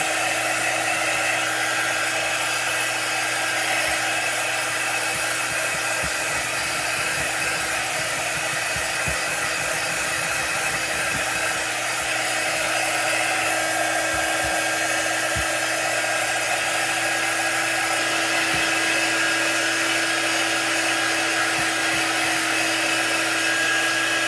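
Steady, loud whooshing drone of a dryer blowing continuously to dry sealer on 3D decorative eggs, unbroken for over twenty seconds with no talk.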